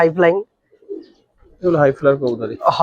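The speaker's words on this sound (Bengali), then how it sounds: "এটা একটা নর কবুতর" A male Military khaki Bagha pigeon coos in loud, close bursts, with a pause in the middle, and a person talks alongside the calls.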